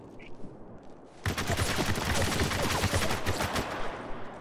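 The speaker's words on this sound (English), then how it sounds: "Who's trying to shoot me?" Rapid gunfire in the multiplayer shooter game Spec Ops: The Line, a dense burst of shots starting abruptly and continuing steadily to the end, with faint background sounds before it.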